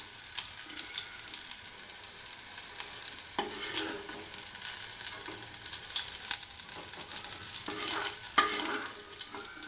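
Green chilli pieces frying in a pan for a spicy Telangana tomato chutney, with a continuous hissing sizzle and occasional sharper crackles and stirring scrapes, heard up close with no talking.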